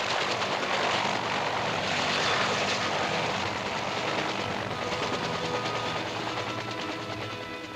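A loud, steady engine roar with a throbbing rotor drone from a WW2-era US Army helicopter holds throughout, fading slightly toward the end.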